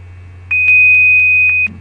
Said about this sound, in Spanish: suena un pitido indicándome que la prueba inició